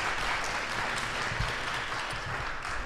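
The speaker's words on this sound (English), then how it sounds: "Can we clap it up for that one time, please?" An audience claps at a veterans' cannabis wellness talk, a dense, fairly steady patter of hands with no voices, ending in a single louder bump.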